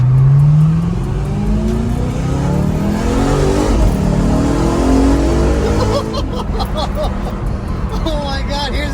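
A BMW E92 M3 fitted with a new aftermarket exhaust accelerates hard under load. The engine roars up through the revs, close and loud, with a sweeping rise in pitch and a shift partway through.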